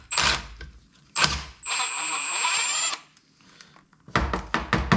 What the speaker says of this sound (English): I'll take this bolt off here.